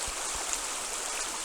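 A mountain stream in western Washington flows as a steady, close, full-bodied rush of water with continuous broadband hiss and no voices.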